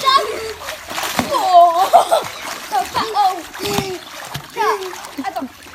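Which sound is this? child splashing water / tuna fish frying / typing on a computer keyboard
child splashing water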